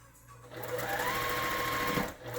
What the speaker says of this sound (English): I'm going to sew my 1/4 inch all the way along here, past that center seam